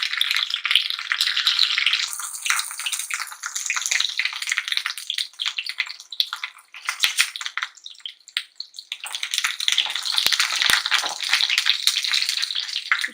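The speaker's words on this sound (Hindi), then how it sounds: "हमें तेल इतना डालना है कि ये अच्छे से फ्राई हो जाए।" Bitter gourd peels and scooped-out seeds frying in plenty of oil, a loud, steady crackling sizzle that runs throughout with only brief dips and no talking.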